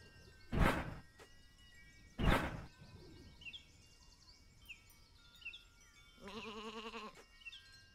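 A sheep in a video game gives a quavering bleat near the end, after two sharp thumps earlier, with faint birdsong chirping in the background.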